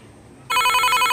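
A telephone starts ringing abruptly after a brief quiet moment, its bright, trilling bell loud and close.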